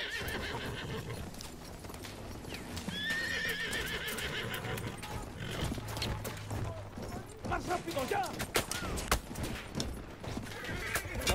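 Hoofbeats of a galloping horse pound through a video game battle, with sharp whinnies cutting in, bursts of combat noise and voices shouting over the action.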